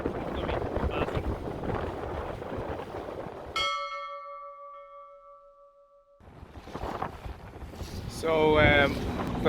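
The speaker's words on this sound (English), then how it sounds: "It's supposed to be 30 knot gusts and the wind is against us." Strong, gusty wind roars at sea aboard a sailboat with 30-knot gusts, loud and buffeting the microphone, cutting out briefly midway before returning, with a voice speaking over it near the end.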